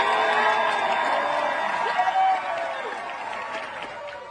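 Applause and cheering from an outdoor crowd at a lumberjack show, a broad steady wash of clapping with whoops, loud and continuous, easing slightly toward the end.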